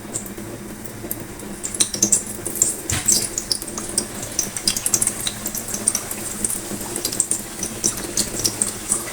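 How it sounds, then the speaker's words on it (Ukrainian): Chebureki deep-frying in plenty of hot oil, a busy, fairly loud crackle and spitting with dense irregular pops throughout, no voices. "Обсмажуємо у великій кількості олії."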